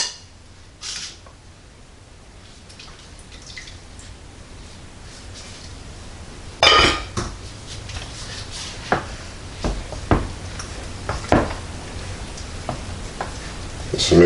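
Sweet potato pie filling with melted butter is stirred in a bowl nearby, a soft continuous wet swishing with occasional louder scrapes and knocks of the utensil, no talk.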